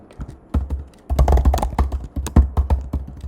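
Code typed on a computer keyboard, a run of quick irregular key clacks close to the mic with a brief pause near the start, no voices.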